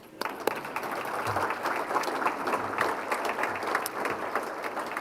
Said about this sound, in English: So you can applaud them now.